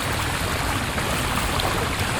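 Waves stirred up by a passing boat lap steadily against a kayak on open water, a continuous close splashing wash with no talk.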